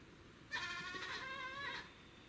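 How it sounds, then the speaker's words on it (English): A goat gives a single drawn-out bleat lasting just over a second, fairly close and clear above a quiet background hum. "My goats are talking."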